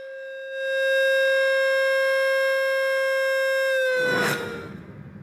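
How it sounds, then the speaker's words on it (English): A steady air raid siren wail drones loudly for several seconds, then winds down and fades into a rumbling noise. "the sounding of an original air raid siren"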